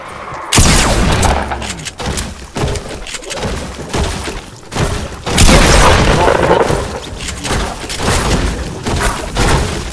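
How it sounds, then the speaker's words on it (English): Hunting rifle fire in a video game, heavy booming shots and thuds in irregular bursts, loud and close, amid a chaotic battle din. "That's my hunting rifle, by the way."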